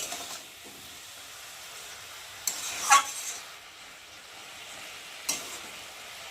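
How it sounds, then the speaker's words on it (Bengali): Bottle gourd greens and prawns are stirred in a pan, a soft low sizzle with a few sharp scraping clinks of the spatula against the metal. "ভালোভাবে কষিয়ে নিয়েছি"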